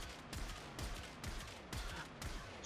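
The Komorex rifle in Warframe fires a steady series of five heavy, evenly spaced shots at a moderate pace, each a booming low-end report, all at a quiet level.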